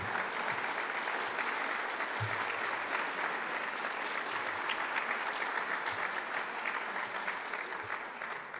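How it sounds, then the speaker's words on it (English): An audience at a New York grant award ceremony gives sustained, full applause, a thick steady roar of many hands clapping that continues without a break throughout. "Please clap, please stand."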